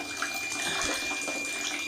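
Water runs steadily from a tap into a basin while cloth diapers are handwashed, a continuous close splashing rush with no talk.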